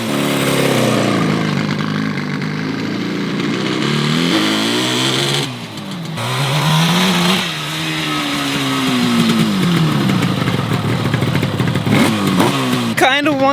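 A Yamaha RD350 two-stroke motorcycle, abandoned for ten years and bogging down at higher RPM, is ridden close by. Its engine drones loudly throughout, revving up and easing off in repeated swells, with no voices.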